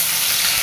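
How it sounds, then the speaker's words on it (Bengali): Spices sizzling in hot oil in a pan while cooking egg curry: a steady, loud, close frying hiss with no pauses, heard only for a moment. "মশলাটা একটু ভেজে নিব"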